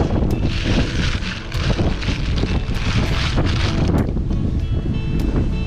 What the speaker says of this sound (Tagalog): Kasi mahangin po dun sa taas.